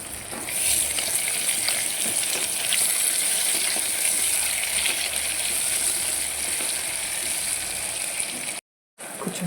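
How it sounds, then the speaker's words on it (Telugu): Eggplant pieces frying in oil as part of making eggplant jeera rice, a loud continuous sizzle and bubbling close by with faint stirring, broken by one brief silent gap near the end. "ఆయిల్లో ఫ్రై అవుతూనే టేస్ట్ అనేది తిరుగుతుంది వంకాయ ముక్కలు బాగా ఫ్రై అయినాయి కదండి"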